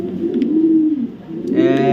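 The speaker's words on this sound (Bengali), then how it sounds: "একজোড়া মিলি রেসার কবুতর খুঁজতেছে" A Mili racer pigeon, one of a breeding pair sitting on eggs, coos in a low, continuous rolling murmur close by, with a brighter burst of sound near the end.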